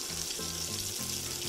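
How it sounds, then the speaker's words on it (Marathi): Masala sizzling steadily in oil in a kadhai while chole are cooked, a continuous close frying hiss with no voices. "कढईने सगळं तेल सुटायला लागलं की हा मसाला परतला गेला असं समजायचं"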